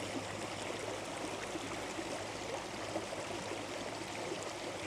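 A small stream flows steadily through a snowy, icy winter landscape, producing a soft, even rushing and gurgling of water that holds constant throughout, faint and without voices.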